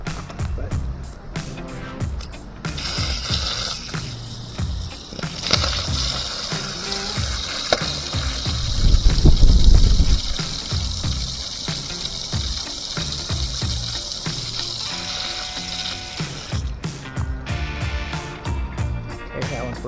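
Water runs and hisses steadily from an old irrigation sprinkler zone at a mid-century Florida home, a broadband spray that swells louder midway, with faint background noise and no talk.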